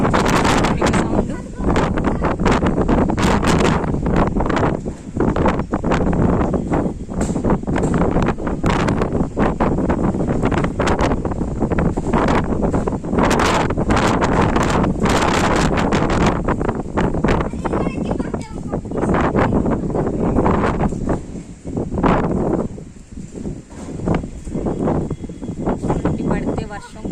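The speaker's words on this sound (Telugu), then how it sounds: "విజయవాడ ఏరియాలో చూడండి గాలి, విపరీతమైన గాలి" Strong, gusty wind blows outdoors in Vijayawada under heavy clouds before rain, roaring and buffeting the microphone almost continuously for the whole stretch.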